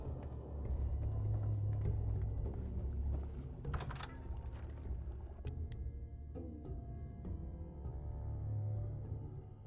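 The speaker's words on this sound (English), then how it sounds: "I can hear a bloody radiation storm out there" Radiation storm in a video game, a low heavy rumble rolling steadily outside with swelling and easing intensity and a few faint creaks and clicks on top, no voices.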